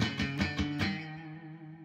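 Electric guitar plays a riff with down-up strums, four or five quick rhythmic strokes, then a ringing chord that fades out, fairly quiet and close.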